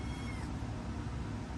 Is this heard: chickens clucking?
no